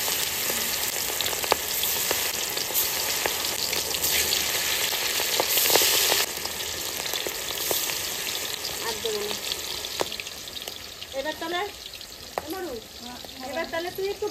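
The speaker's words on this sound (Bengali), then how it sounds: "এবার এক এক করে আমি মাছ তেলে দিয়ে দেবো।" Rita fish pieces fry in hot oil in a pan, a steady dense sizzle that continues throughout with small crackles and a brief voice in the background near the end.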